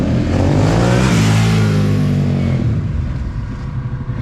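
A Harley-Davidson Pan America with a Revolution Max engine and aftermarket TBR exhaust roars close by with a deep, throaty note, rising in pitch as it accelerates, then fading and sputtering as the throttle eases off.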